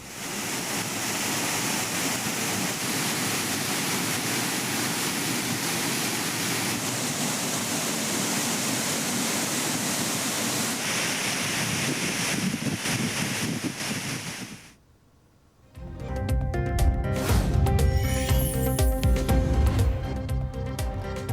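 Courtallam main falls, swollen after days of rain, roars as a steady, loud rush of falling water for about fourteen seconds before cutting away to unrelated sound.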